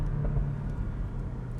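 Brief engine rumble from a Porsche 718 Boxster as it downshifts on the road, a steady loud drone with slight changes in pitch.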